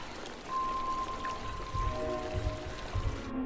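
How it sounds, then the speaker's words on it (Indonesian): Water flows and splashes like a small waterfall in a tense film scene, a steady patter with a low tone and a faint high whine, moderately quiet throughout. "Evelyn masuk ke dalam aliran air yang mengalir seperti air terjun dan bersembunyi dari alien tersebut"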